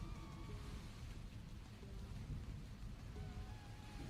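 Steady rain pours with a low rumble of thunder underneath, a dense, constant wash of sound at fairly low level with no voices.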